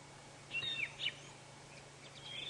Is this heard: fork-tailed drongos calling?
yes